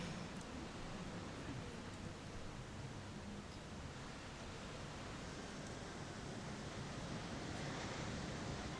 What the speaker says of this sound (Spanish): Sonido de olas.